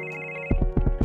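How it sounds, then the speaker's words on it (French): A mobile phone ringtone, a sustained electronic tone that gives way partway through to a quick run of bright, pulsing rings, close and clear. "Mon téléphone a sonné"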